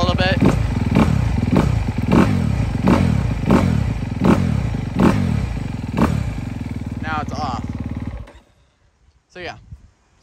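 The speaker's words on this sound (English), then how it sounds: "Now I blip the throttle a little bit." A 2023 Honda CRF250R dirt bike idles with a rapid, chattering single-cylinder beat, broken by a series of evenly spaced throttle blips that rise sharply and fall away, before the engine cuts to near silence and gives one last brief burst.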